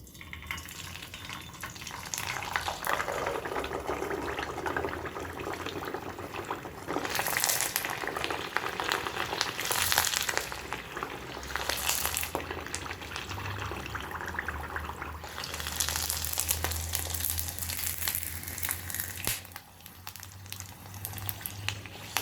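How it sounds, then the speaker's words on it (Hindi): Sabudana papad frying in hot oil in a pan over medium heat, a steady loud sizzling hiss that runs throughout with brief bursts of crackle, no voices. "तो ये साबूदाना का पापड़ अब हम फ्राई करके देखते हैं।"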